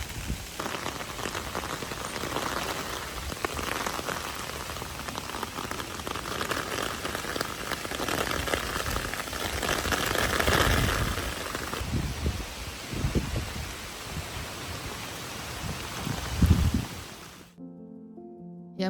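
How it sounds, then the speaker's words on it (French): A heavy downpour in London pours down in a dense, continuous roar of rain, loud and close, swelling midway and easing before cutting off abruptly. "Je vais d'ailleurs vous laisser profiter du son de la pluie."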